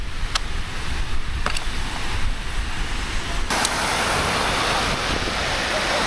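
Wind roars steadily at the seaside in a dense, continuous rush, loud and close with a few sharp clicks, and the noise grows heavier partway through.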